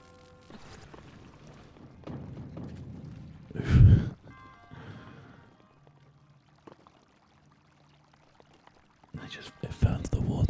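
Object dropping into water in The Legend of Zelda: Breath of the Wild, a single loud splash-like burst near the middle amid soft game ambience, with a voice talking quietly before and after.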